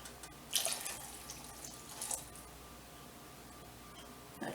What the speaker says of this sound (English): So I'm going to go ahead and pour my wine in here.